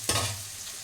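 Tomatoes hit a hot pan with a sudden loud sizzle, then settle into a steady frying hiss that fades slightly; no one speaks.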